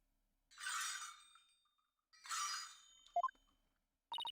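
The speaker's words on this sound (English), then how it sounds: "Oh, I heard the sound of the High Priest's footsteps." Footsteps of the High Priest wearing ankle bells in the video game Ace Attorney: Spirit of Justice, two jingling shimmering steps, then a few soft clinks and a quick run of bell tones, fairly faint with no talk.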